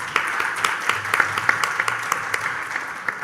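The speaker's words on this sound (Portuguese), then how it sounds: "uma salva de palmas para todos." An audience at an international forum in São Paulo gives the speakers a round of applause, with steady, moderately dense clapping from a hall of people and individual sharp claps poking through.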